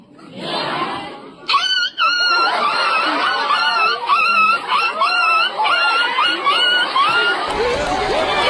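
A person imitating a dog for a talent show, with a rapid series of yelping bark-like calls after a brief opening, carrying on for several seconds over crowd chatter and laughter.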